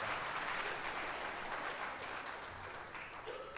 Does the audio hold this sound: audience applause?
yes